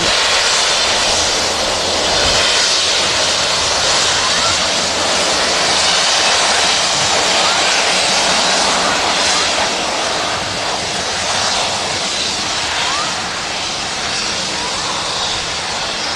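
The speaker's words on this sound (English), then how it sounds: "Just hearing in the background briefly the Wookiee howl as the E2 jet taxi's in" An Embraer E2 jet taxis at Manchester Airport, its engines giving a steady, broad roaring howl with wind-like noise that holds at a constant, fairly loud level for the whole stretch.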